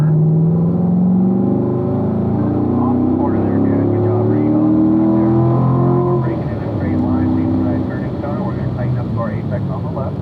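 A race car runs at full power on a circuit during a driving-school run, its engine note rising and sweeping loudly and close for several seconds, with an instructor's voice talking over it.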